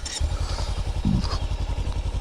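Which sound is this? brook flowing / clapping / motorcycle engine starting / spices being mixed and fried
motorcycle engine starting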